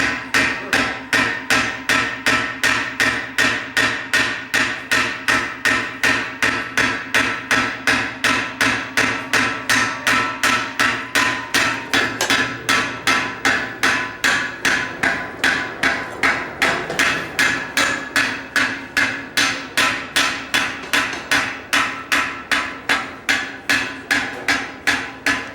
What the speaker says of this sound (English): Whenever you're hammering your tenon, you would need to pull it towards you, whether you're trying to or not.